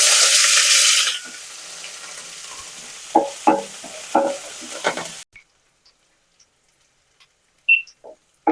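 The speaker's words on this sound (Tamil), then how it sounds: "வெங்காயம் பூண்டு நல்லா வதங்கின ஒன்று தக்காளியும் போட்டு நல்லா வதக்கணும்" Onion and garlic with curry leaves sauté in a pan, loud at first and then a fainter sizzle with several spoon scrapes and knocks, before near silence with only a few scattered clicks.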